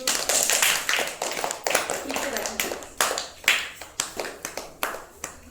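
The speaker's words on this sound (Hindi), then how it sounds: "चलो तालियां बजा दो।" Children clap their hands in a classroom counting lesson, a run of quick, uneven claps close by that keep going for several seconds and then thin out into scattered individual claps.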